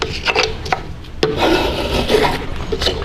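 A hand plane shaving a miniature wood part, with a series of short rasping strokes, close and distinct, each a brief scraping rub followed by a pause.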